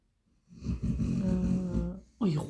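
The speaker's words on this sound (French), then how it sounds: "Oh, il ronfle Marty, vous l'entendez?" A pet snores nearby in a quiet room with one long, rumbling, drawn-out snore. A second breath starts right after it.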